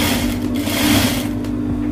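A sewing machine stitches stretchy lace fabric, its loud, close, continuous motor whir and rapid needle chatter running steadily without pause.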